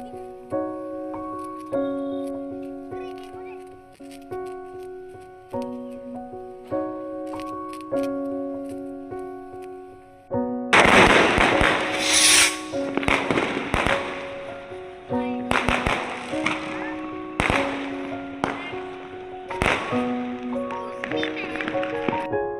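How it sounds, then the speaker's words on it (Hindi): Diwali firecrackers crackle and pop in rapid, loud bursts over a looping musical tune, the explosions continuing in clusters through the second half. "फिर हमने फोड़े बहुत सारे पटाखे"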